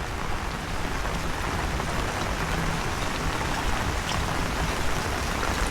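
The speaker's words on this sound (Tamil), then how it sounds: "நல்ல மழையை அடிச்சு கொண்டு இருக்கு" Heavy rain pours steadily outside an appam shop in Dehiwala, Colombo, after more than two hours of downpour, a dense, continuous hiss of drops hammering surfaces at close range with no voices.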